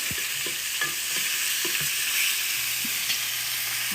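Sausages frying in a pan give a steady bright sizzle, punctuated by a few sharp knocks and scrapes as they are turned, close and without talk.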